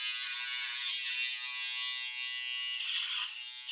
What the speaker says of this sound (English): Then we're going to take our trimmer and we're going to refine it.